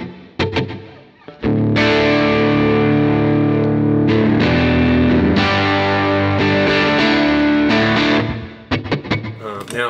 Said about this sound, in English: This is the Spatium reverb on a slapback setting,